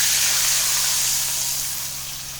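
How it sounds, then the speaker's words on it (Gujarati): Water poured into hot oil tempered with mustard seeds, cumin and asafoetida for Gujarati vagharela rice gives a loud, steady hiss of sizzling steam that slowly fades. "હવે આપણે તેમાં પાણીનો વઘાર કરીશું."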